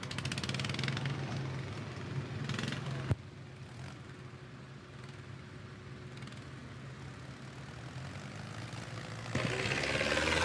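A pulling tractor, Eric Tinsman's Bad Attitude, roars loud and steady at a tractor pull, with a sharp crack near three seconds and the engine surging louder again near the end.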